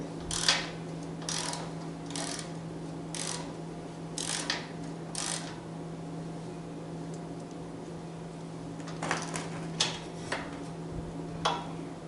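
Ratcheting mechanical clicks from tightening the chain adjuster on a Coleman CT100U off-road gas mini bike, close, in two uneven runs of several clicks separated by a pause, over a steady low hum, no talking.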